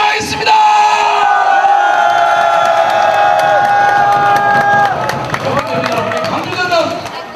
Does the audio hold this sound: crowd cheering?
yes